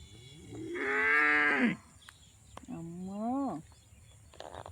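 Two long, deep moos from a cow, the first loud and drawn out, the second shorter and rising, with quiet outdoor background between them.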